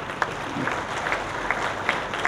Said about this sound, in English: we can at least clap a little harder for these grassroots innovators